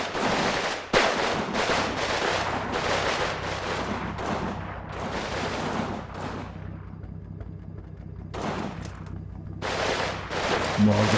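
Bursts of submachine gun fire from a Soviet SMG squad's frontal assault in the WWII game Combat Mission: Stalingrad, repeated loud volleys with brief pauses and a low rumble of battle beneath.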